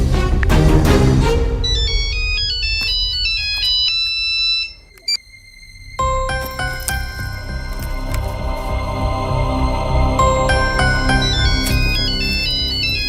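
A mobile phone ringtone plays loudly, with a rapid melodic note sequence, a brief pause near the middle, then a denser electronic tune continuing to the end, in a scene from a Tamil-dubbed comedy film, with no voices.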